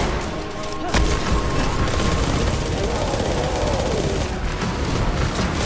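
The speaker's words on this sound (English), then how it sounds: "Right here, I'm throwing a rocket because I know that I'm about to get a rocket back from this guy." In a Destiny 2 multiplayer match, a rocket launcher fires and explodes in a loud, dense roaring blast that fills the whole stretch, with a sharp crack near the start and gunfire mixed in.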